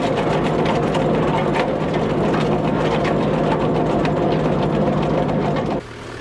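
A tractor spreading manure across a vineyard runs with a steady, loud, droning engine and rattling implement noise, holding constant before the sound drops off abruptly near the end.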